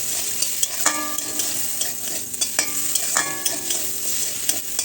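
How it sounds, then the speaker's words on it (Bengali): Spices with turmeric, chili powder and cumin powder fry in oil with tomato for a chilli soybean dish, a steady sizzle broken by several distinct scrapes of a spatula stirring against the pan. "দিয়ে আবারও কিছুটা নাড়িয়ে নেব"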